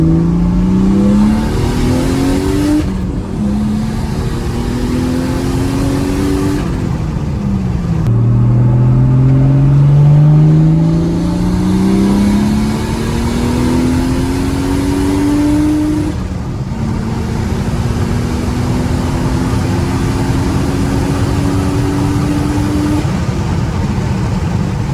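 A Mercedes W203 fitted with a turbocharged M104 engine and a new fuel system pulls hard through repeated gear-by-gear acceleration runs, its loud engine note rising in pitch and dropping at each shift, close and steady with no talk.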